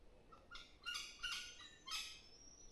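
Several birds call in bushland beside a hiking trail near Denmark, Western Australia: a few bright, high chirps and tweets come in short separate bursts, fairly close, with no talking.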